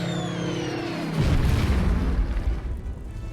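Bombing explosions in the wartime strategy game Order of Battle: a deep, rumbling boom bursts in over a sustained tonal drone and rolls on loudly before slowly decaying.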